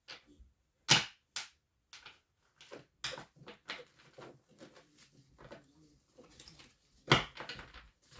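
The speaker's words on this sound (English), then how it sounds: "I did pre-shuffle already, but I'm going to go ahead and shuffle a few more times." Tarot cards are shuffled in the hands, giving sharp riffling snaps and soft papery slides in irregular bursts, close and fairly quiet with pauses between shuffles.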